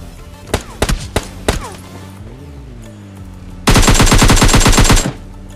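Gunfire from a bot in a mobile battle royale game starts as several sharp single shots, then becomes a loud, rapid burst of automatic fire lasting over a second.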